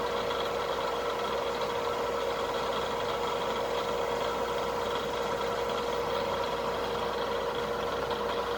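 A machine spindle runs steadily while spotting a hole in a metal part, barely cutting at the start of a drilling pass about 75 thousandths deep; a continuous, even mechanical hum with no pauses or voices.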